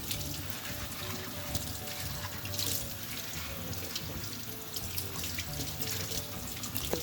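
Saag leaves being rinsed under a running tap into a sink, a steady, close rush of water with small splashes throughout.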